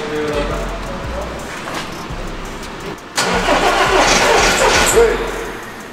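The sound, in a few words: Audi car engine being cranked and started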